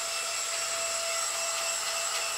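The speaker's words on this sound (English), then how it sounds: "It's a blower and a vacuum blower." A Lynca Blow A electronic air blower for cleaning camera gear runs continuously, a close, steady high-pitched whine with a constant hissing airflow and no talking.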